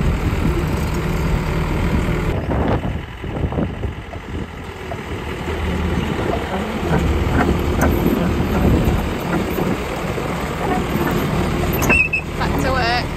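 A digger's engine rumbles steadily at a building site, idling and working under a continuous low drone, with voices talking over it at times.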